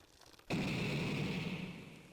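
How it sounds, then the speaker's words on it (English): An explosion in the video game Midnight Train bursts in suddenly and loudly, then rolls on as a sustained, broad roar that slowly fades. "An explosion."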